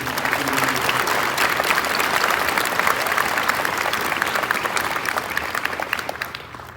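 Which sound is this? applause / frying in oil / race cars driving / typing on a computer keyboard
applause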